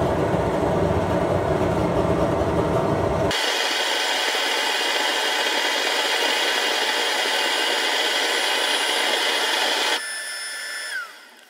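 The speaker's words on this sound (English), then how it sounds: "Still making that sputtering noise" A propane forge burner with forced air runs with a loud, steady roaring hiss throughout, a deeper rumbling layer dropping out partway, and the sound thinning and fading near the end.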